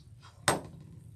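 A single sharp cut through fabric strips on an AccuQuilt GO! quilting cutter, one loud crisp snap rising abruptly from a quiet background and fading quickly.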